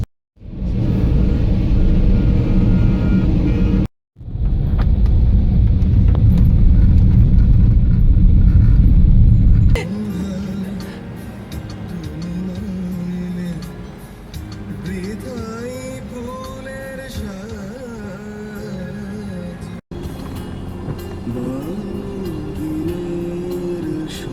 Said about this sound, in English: Most cars in Bangladesh don't run on petrol or oil,